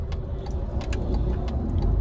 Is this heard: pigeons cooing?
no